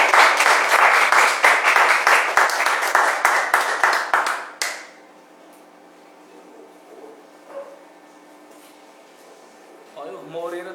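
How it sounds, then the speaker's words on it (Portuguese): Congregation clapping in church, loud and dense applause for the first few seconds that stops abruptly, leaving a quiet room before a voice begins speaking near the end. "Aplausos a ele, ao nosso grande Deus."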